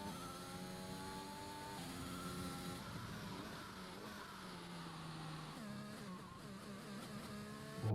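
An F1 car engine in the F1 2021 video game at the Hungarian GP, a high, steady whine that climbs in pitch through the gears with brief shift drops, heard continuously, somewhat quiet and with no talking.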